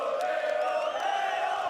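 Fans of National League champions Auckland City FC cheer loudly and steadily after a football final, a dense roar of voices with whistles flickering through.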